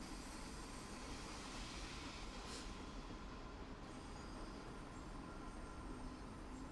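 A train in Train Sim World 5 screeches along the track under a steady, faint rolling rumble, with a brief sharper squeal of wheels partway through and no other sounds.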